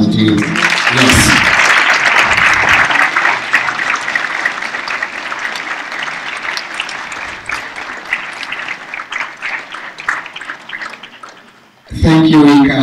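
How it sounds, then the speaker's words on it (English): A second long round of applause from a seated crowd at a Tanzanian Model UN opening ceremony, dense and steady clapping that slowly thins toward the end before a voice speaks over it. "Please, another round of applause to you."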